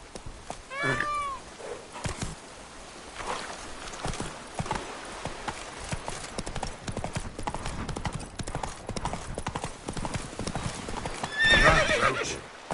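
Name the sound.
Roach the horse galloping and neighing, from video game The Witcher 3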